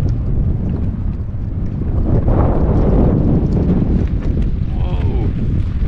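Strong wind gusts buffet the microphone while out paddling and fishing on the water, a steady low roar that swells and surges, with a voice speaking briefly over it.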